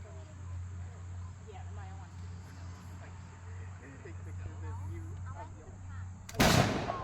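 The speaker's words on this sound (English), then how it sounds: "Don't worry, one of these guns will shoot." A historic gun fires once near the end of a festival reenactment, a sharp loud blast after several seconds of outdoor background with faint voices and a steady low hum.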